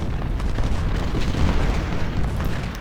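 Parrott guns and artillery in Ultimate General: Civil War boom in overlapping, continuous volleys, heavy low thuds rolling together loudly with no clear pauses.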